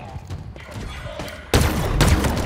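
A grenade detonating in Halo Infinite firefight, a sudden loud boom that breaks over ongoing gunfire and rumbling blasts, with game announcer voice calls heard around it.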